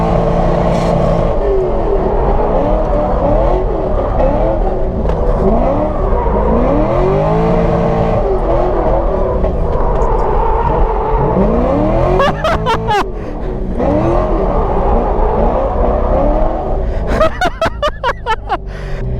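A Toyota AE86 is driven hard in a tandem drift at over 70 mph, its engine roaring loud and close with repeated rising and falling revs. Sharp tire chirps and clatter come near the end.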